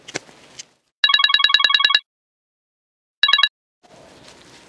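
A telephone bell rings in a Bangla drama scene: a loud, bright trilling burst of about a second, a pause, then a shorter second burst, with quiet room noise before and after.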